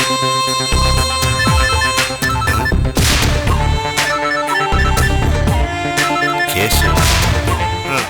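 A phone rings for an incoming call in a Tamil TV serial scene, a loud melodic ringtone with rhythmic beats and chimes playing continuously with no speech.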